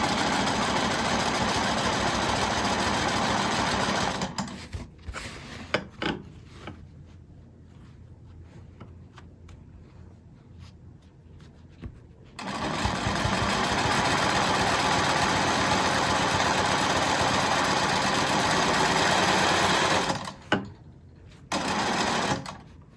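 A sewing machine stitches a quilt border in long steady bursts of fast, even whirring, pausing for several seconds between runs while fabric is repositioned, close and loud with no talking.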